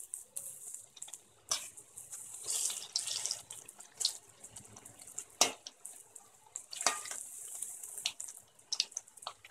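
Moong dal pakoda frying in hot oil, a steady hissing sizzle with crackling bursts that rise and fall, close and moderately quiet, with no voices.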